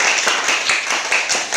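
Classroom applause for a group of fifth-grade students, a steady wash of many hands clapping together at close range, continuous and fairly loud throughout with no talking.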